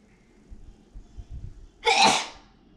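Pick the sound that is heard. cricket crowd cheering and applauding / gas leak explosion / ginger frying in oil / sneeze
sneeze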